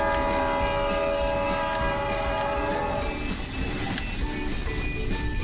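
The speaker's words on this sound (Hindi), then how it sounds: "ट्रेन अपने आप रुक गई क्या?" Train slowing to a halt in a Japanese horror train game, with a long, loud metallic wheel squeal in sustained tones that fades out partway through over steady rumbling.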